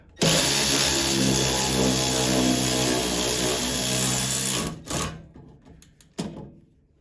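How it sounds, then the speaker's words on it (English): An electric ratchet snugs a bolt into aluminum threads on an Ariens 11528LE snowblower, a loud, steady motorized whir for nearly five seconds, then a stop followed by a few short clicks and brief bursts. "I just want to snug it down with the electric ratchet"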